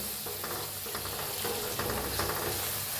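Ground onion and tomato masala fries in hot oil for an egg curry, a continuous loud sizzle broken by the scrape of a stirring spoon, with no voices.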